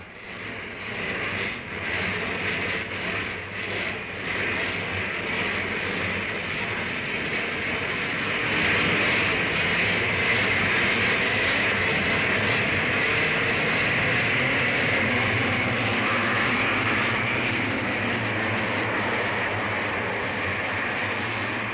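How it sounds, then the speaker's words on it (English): A motocross race with CZ and Husqvarna motorcycles, their engines a steady, distant droning roar that swells midway and holds, blended into a broad noisy wash without distinct passes. "And then the long-expected race was off. Its main actors, Joel Robert on a CZ and Thorsten Hallman on a Husqvarna."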